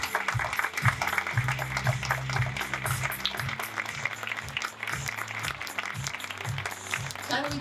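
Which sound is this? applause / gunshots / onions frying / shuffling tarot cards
applause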